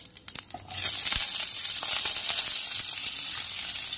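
A few clatters, then a sudden loud burst of hot oil sizzling as black cumin and chopped onion hit the pan, settling into steady, close crackling frying.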